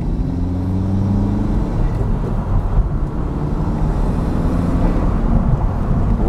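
A Honda Civic FK7 fitted with a custom air intake drives on a road, its engine droning steadily under heavy road and wind noise with a slowly shifting pitch, loud and continuous throughout.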